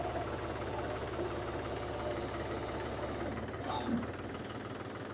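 A Mahindra tractor engine with a hydraulic problem runs with a steady, low, throbbing rumble, its tone shifting briefly near the end.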